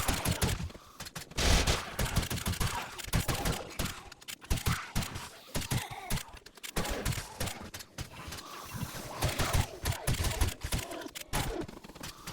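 Shotguns fire in 7 Days To Die in rapid, irregular loud blasts through a chaotic fight, shot after shot over a dozen seconds with a voice now and then.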